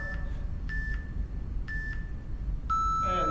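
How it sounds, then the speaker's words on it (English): A workout interval timer sounds three short electronic beeps at a steady, roughly one-second rhythm, ending in a longer, brighter final tone, over a low background hum with no talking. "And there's our timer."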